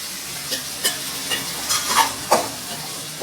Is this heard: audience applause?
no